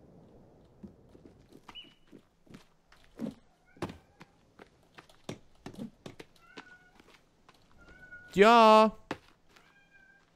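A cat lets out one loud, close, drawn-out meow near the end, after a stretch of scattered knocks and thumps, with a brief spoken word nearby.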